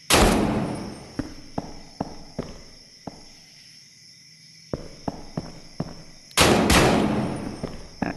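Rifle fire in the tactical shooter Operation Sandstorm: a loud, close shot with a long echoing tail opens, then a steady series of sharp footstep-like thumps, and a second heavy blast of gunfire rings out near the end.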